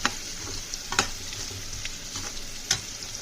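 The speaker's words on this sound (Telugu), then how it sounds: "ఇప్పుడు అదే ఆయిల్లో ఒక 2 ఉల్లిపాయలు, 2 పచ్చిమిరపకాయలు కోసి ఆయిల్లో వేసుకొని ఫ్రై చేసుకుందాం" Sliced onions and green chillies frying in hot oil in a pan, giving a steady close sizzle with a few sharp clinks of a stirring spoon against the pan, with no voices.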